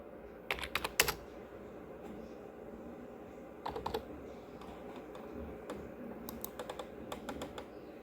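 Quick bursts of key taps on a computer keyboard as a captcha is typed to log in, soft and close, with short pauses between clusters over a faint room hum.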